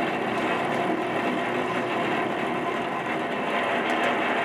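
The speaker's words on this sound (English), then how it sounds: "That noise is the microwave, not the sandwich." A microwave oven runs with a steady, dense hum and whir, constant and fairly close for a few seconds, with no speech over it.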